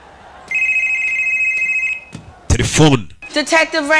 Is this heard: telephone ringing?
yes